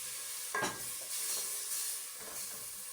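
Tomatoes sizzle and hiss steadily in a hot pan for a chicken stew after a little stock is poured in, with brief stirring scrapes over a constant frying bed.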